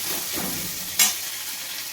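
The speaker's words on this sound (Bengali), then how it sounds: "এবার আমি এটা ভালোভাবে ভেজে নেব।" Chopped onion and tomato with salt fry in a pan with a steady close sizzle, and a single sharp scrape of stirring stands out midway.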